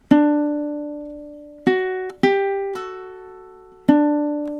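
Four plucked ukulele pull-off notes ring out alone, each a bright attack followed by a slowly fading tone, with uneven gaps between them.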